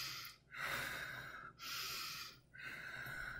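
A woman demonstrates stressed breathing with three loud, rapid, breathy inhalations and exhalations, each lasting about a second with short pauses between, close to the microphone.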